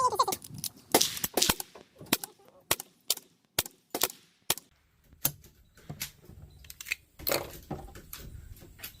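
An AR-7 rifle fires a rapid string of sharp shots outdoors, some shots close together and some spaced apart. The bursts are loud against quiet gaps, and faint background noise sits between them.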